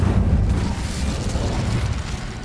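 Incendio fire spell cast in Hogwarts Legacy, a dense, steady roaring whoosh of fire with a low rumble that holds loud throughout without any voice.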